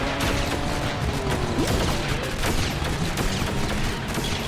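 Rapid gunfire and shooting in Lego Batman: The Video Game, a dense, loud barrage of overlapping shots and impacts that runs continuously with no talking.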